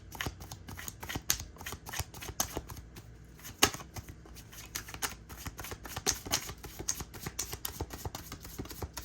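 Tarot cards are shuffled and drawn at close range, making quick irregular papery flicks and taps that continue steadily and fairly quietly throughout.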